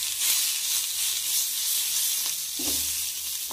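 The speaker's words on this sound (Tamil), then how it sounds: "இப்போ கழுவி கிளீன் பண்ண தூதுவளை இலையை சேர்த்துக்கலாம். நல்லா வணங்கட்டும்." Washed thoothuvalai leaves sauté in a hot pan, giving a steady, close sizzling hiss with a short burst of stirring near the end, no voices.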